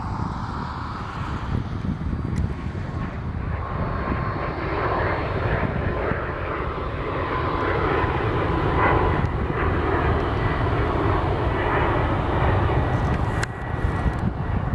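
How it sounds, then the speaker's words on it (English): An Alaska Airlines Boeing 737 MAX 8 departs from Portland, its jet engines roaring in a loud, steady rumble that swells gradually and holds, with some wind buffeting on the microphone. "Here we have a departure for Alaska 737 MAX 8."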